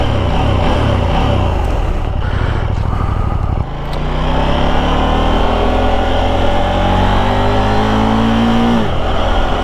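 A KTM Duke 890 R motorcycle engine pulls hard under acceleration, its note climbing steadily in pitch through a gear after a brief dip, loud and close above the rushing wind of a road ride.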